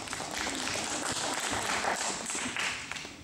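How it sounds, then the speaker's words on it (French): A crowd at a French game evening applauds in a dense, steady patter of clapping that lasts a few seconds at moderate loudness. "on peut les applaudir"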